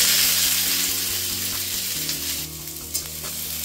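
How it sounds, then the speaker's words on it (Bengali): Ridge gourd peels fry in hot oil, a loud, dense, continuous sizzle close by with a steady low hum underneath and an occasional stir or scrape. "এই যে দেখো এবার ঝিঙের খোসাগুলো ভালো করে একটু ভেজে নেব।"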